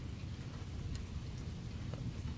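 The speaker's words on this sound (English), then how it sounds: "I love rain and thunder." A rain and thunder storm at night, heard from outside as a steady wash of rain with a low rumbling undertone, fairly faint and continuous.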